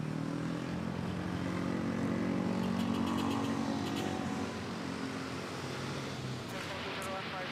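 Philippine Airlines Airbus A321 making a rolling takeoff on runway 06 at Manila airport, heard as a steady, broad jet engine roar held at a distance throughout, with no talking.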